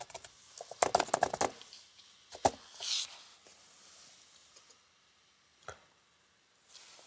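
Several short bursts of clicking computer keyboard keys tap out a comment in a quiet room, with a few scattered single clicks afterward, close and fairly faint.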